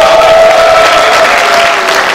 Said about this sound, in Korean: 국회의원님께 큰 박수 부탁드립니다.